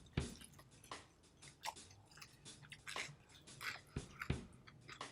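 Close, quiet chewing and crunching of balut egg, with repeated soft bites and crackles in an irregular rhythm, plus faint breathing between chews.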